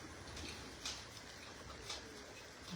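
Homing pigeons coo softly at their loft, with two brief louder calls standing out over a steady low background rumble.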